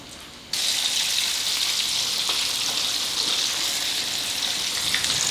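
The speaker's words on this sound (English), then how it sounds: "Into the grease we go." Chicken dropped into hot grease sets off a sudden loud, steady sizzle that holds at full strength to the end.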